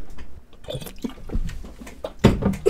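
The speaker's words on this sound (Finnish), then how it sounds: "Sun gulp-äänet." Someone drinks water close to the microphone, with wet gulps and swallows in a loose irregular sequence, the last ones loudest.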